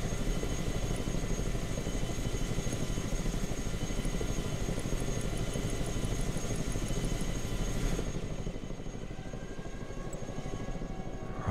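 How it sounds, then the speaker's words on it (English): A heavy lift aircraft arriving in the war strategy video game Broken Arrow, a steady loud engine and rotor drone with a constant whine, which drops off somewhat near the end. No one speaks. "There's a heavy lift aircraft coming in."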